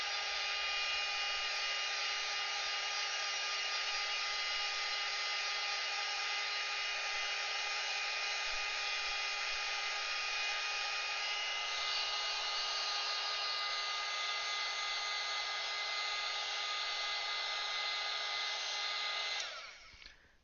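Hair dryer blowing steadily to dry wet artwork, a constant loud whir that holds for about twenty seconds, changes pitch slightly partway through, then cuts off at the end.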